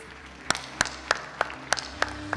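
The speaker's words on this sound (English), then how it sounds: "A round of applause for him, please." A crowd applauds at a product launch over a dense wash of noise, with sharp, evenly spaced claps standing out roughly three times a second.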